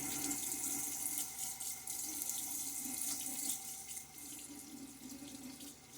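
A bathroom tap runs steadily into a sink for a face wash, a close, continuous rushing splash with slight shifts as hands move through the stream, and no talking.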